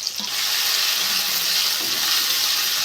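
Tomato and ginger hit hot oil in a pan for vegetarian aloo dum, a steady hiss of sizzling and frying that swells after a soft start and carries on evenly, close by with no talk.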